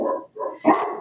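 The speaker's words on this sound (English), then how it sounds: "sorry for the barking dog" A dog barks three times in quick succession indoors, loud and close, the last bark sharpest, with no talking over it.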